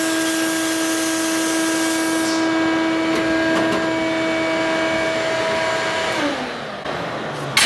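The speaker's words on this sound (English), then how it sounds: "We're going to sandblast it a little bit, really rough it up" A sandblaster roughs up the surface of a handmade knife, producing a loud, constant hiss with a steady machine whine that drops in pitch near the end, close and alone without voices.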